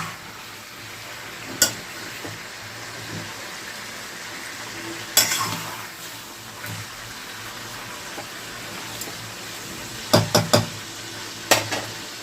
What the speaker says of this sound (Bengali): মাংসগুলোকে একটু ভাজা ভাজা করতে হবে। এইভাবে একটু নাড়িয়ে নেব।